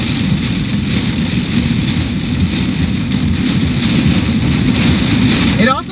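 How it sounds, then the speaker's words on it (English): Heavy rain from severe storms in South Dakota and Minnesota pours down in a steady, dense hiss, loud and close, with a low rumbling roar underneath and no pauses throughout. "You probably can't hear because all you're hearing is rain"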